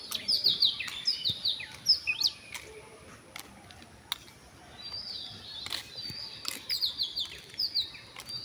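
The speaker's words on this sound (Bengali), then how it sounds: "পাখিদের গুনগুন শব্দ সকালবেলা মাশাআল্লাহ অনেক ভালো লাগে।" Small birds chirp and tweet in bright, quick bursts outside a hospital in the morning, moderately close but fairly quiet, with short pauses between calls and no talking.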